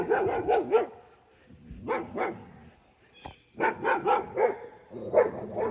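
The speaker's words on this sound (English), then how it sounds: "I hear a dog at a distance." A dog barks in short clustered bursts, several yaps at a time with pauses between, sounding moderately distant and fairly faint.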